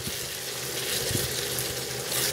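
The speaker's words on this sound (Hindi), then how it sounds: "और अब हम इसे भी अच्छे से मिक्स कर लेंगे।" Chicken and chana daal with green chillies and garam masala are stirred in a hot pan, giving a steady, dense sizzle with a few faint scrapes.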